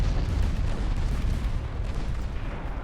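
Continuous dense rumble of warship artillery fire in the naval battle game Ultimate Admiral Dreadnoughts, a steady heavy barrage of overlapping booms held at an even loud level throughout.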